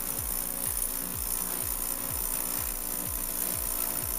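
A Coil Master ultrasonic cleaner runs steadily, its hum overlaid by a regular low thumping pulse about every half second that keeps an even, mechanical rhythm throughout.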